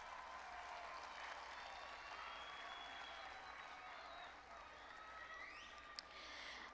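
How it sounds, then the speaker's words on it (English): A graduation audience claps for standing parents and guardians, a faint, distant wash of applause that stays steady throughout. "Students, let's give your parents and guardians a hand clap."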